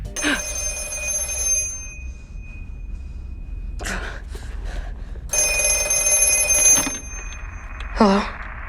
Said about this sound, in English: he gets a call on the ghost phone